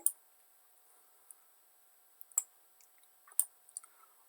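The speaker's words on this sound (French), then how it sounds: "On clique dans la zone de dessin, on sélectionne le composant." Sparse computer mouse clicks, single and double taps scattered irregularly over near silence, quiet and close, with no speech.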